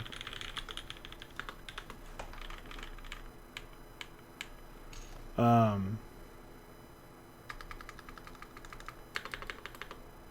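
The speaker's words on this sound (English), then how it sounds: "These are very tactile switches" Rapid bursts of clicky keystrokes on a mechanical keyboard with very tactile switches, crisp, come in flurries with a brief louder tonal sound midway and pauses between.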